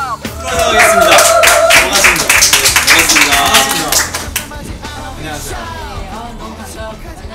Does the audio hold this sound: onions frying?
no